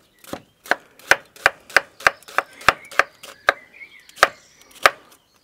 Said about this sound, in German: Der schneidet im Prinzip die Zwiebel so.